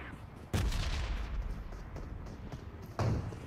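Gunfire in PUBG Mobile in Pochinki: two sharp, loud shots roughly two and a half seconds apart, each with a brief booming tail over a steady noisy game background.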